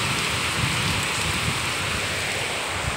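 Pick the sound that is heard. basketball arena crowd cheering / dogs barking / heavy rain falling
heavy rain falling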